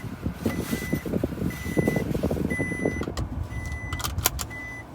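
Repeated short electronic warning beeps chime at a steady pace inside a 2019 Nissan Altima Platinum, over engine rumble and a few clicks.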